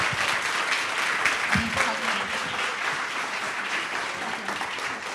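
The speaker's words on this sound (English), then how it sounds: "A big applause for Alana." An audience at a women-in-STEM panel event applauds a speaker with steady, moderately loud clapping. A brief voice sounds over it partway through, and the clapping eases slightly toward the end.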